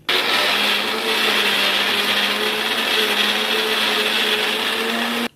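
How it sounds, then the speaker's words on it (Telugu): A mixer grinder runs steadily, grinding fried mint into a chutney, loud and close with a continuous whirring drone and a faint rising pitch near the end, no voices over it. "మెత్తగా గ్రైండ్ చేయాలా, కొంచెం బరువుగా ఉన్నా పర్వాలేదు."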